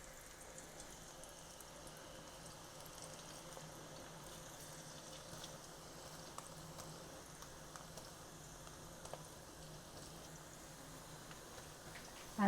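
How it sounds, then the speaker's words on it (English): Water for masala chai heating in a pot on the stove as it comes to a boil: a soft, steady bubbling hiss, faint and even throughout, with no one talking. "And this is coming to a boil"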